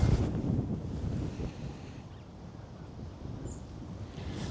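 Breezy wind blows across an open golf course as a continuous rushing buffet of microphone wind noise. It is loudest at the start, then eases to a steady, moderate roar.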